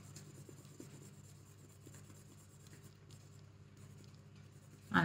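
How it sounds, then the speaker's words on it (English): A pen colouring in on foil makes faint, close scratchy rubbing strokes in a quick repeated rhythm over a low background hum, ending with a sudden louder knock. "And it's quite fun colouring in on foil."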